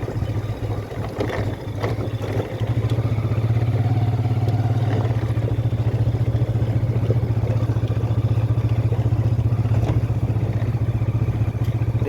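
Motorcycle engine held in a low gear, a steady low throb running loud and close throughout, with some clatter and faint background noise at the start.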